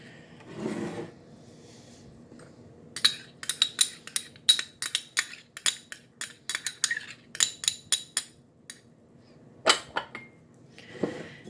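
A spoon scrapes and clinks rhythmically in a bowl while pumpkin bread batter is mixed with caramel sauce. The clicks and knocks come close and fairly loud in quick bursts, with short pauses between them.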